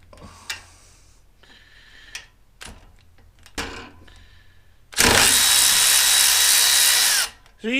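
Milwaukee electric ratchet whirring steadily for about two seconds after a series of scattered clicks and knocks from handling the tool, close and fairly loud.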